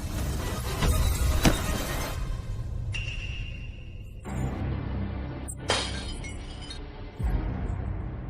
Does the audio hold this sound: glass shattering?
yes